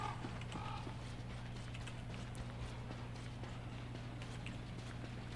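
Volt Goat hooves clatter in the video game Don't Starve Together, a fast, steady clip-clop of trotting steps heard faintly over a constant low game hum, with no speech.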